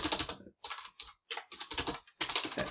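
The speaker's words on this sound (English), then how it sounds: "I just want to type something here." Someone types a message on a computer keyboard in quick, close clusters of crisp key clicks. Several short pauses break up the bursts, and nobody speaks.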